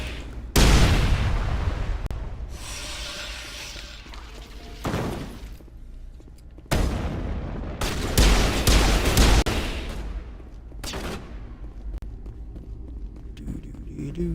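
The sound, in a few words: enemy gunfire in the video game Mass Effect Legendary Edition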